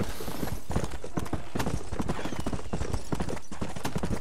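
Horses in the Red Dead Redemption video game give off rapid, crisp clip-clop hoofbeats on hard ground, close and steady, with a faint whinny in the mix.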